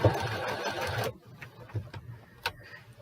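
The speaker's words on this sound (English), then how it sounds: "And this is a quilting and sewing machine." A sewing machine runs loudly for about a second, then stops, leaving faint clicks and mechanical rattles.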